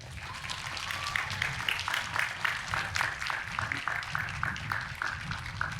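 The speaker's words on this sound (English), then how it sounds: "would you please join me in honoring them with a round of applause?" Applause at a 2021 commencement for a school of applied social sciences: a broad wash of many people clapping, somewhat distant and moderate in level, sustained evenly throughout without speech.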